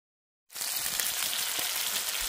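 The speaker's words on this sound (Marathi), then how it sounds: "चला मासे फ्राय करून घेऊया." Fish frying in a pan at an outdoor village cookout, a steady loud sizzle that starts abruptly after a short silence and carries on evenly with no talk.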